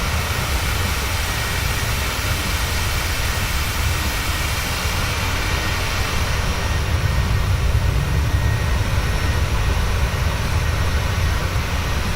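Steady, loud jet engine roar from a PMDG 777 airliner of American Airlines in Microsoft Flight Simulator, a broad continuous rumble with a high whine that holds evenly throughout with no talking.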